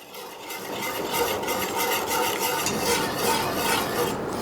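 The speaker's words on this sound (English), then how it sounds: "when you whisk it in, you want to make sure that you feel that polenta start to fight back" Polenta being whisked in a pot, a steady scraping, rasping swish of the whisk against the pot that grows louder after the first second and continues evenly, no talking.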